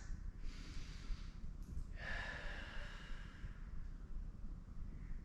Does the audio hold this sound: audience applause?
no